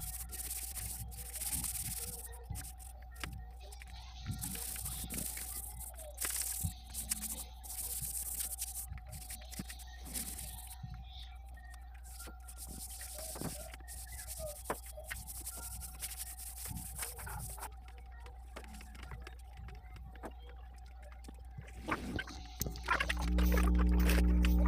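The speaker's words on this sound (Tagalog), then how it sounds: "lihain lang muna agad natin mabuti bago tayo mag top coat" Sandpaper scrapes by hand across a wooden cabinet before its top coat, in irregular rubbing strokes with short pauses, close and fairly quiet over a steady background hum.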